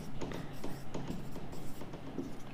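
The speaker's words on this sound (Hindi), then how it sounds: "ऑप्शन भी लिखता हूं मैं।" Chalk or marker scratches on a board in a short run of quick strokes, close and moderately faint, while writing out answer options.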